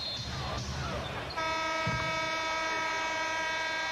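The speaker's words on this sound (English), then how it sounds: "And another whistle." A referee's whistle sounds at a 1997 NBA playoff basketball game between the Knicks and the Heat, a sustained shrill tone cutting in over arena crowd noise.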